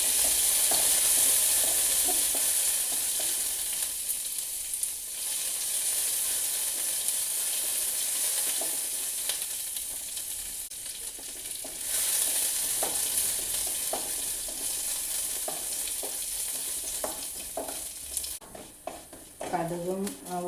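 Mustard seeds, chopped shallots and curry leaves fry in hot oil for a cheera thoran: a loud, steady sizzle and crackle runs for a long stretch with scattered pops and stirring scrapes, dropping and turning choppier near the end.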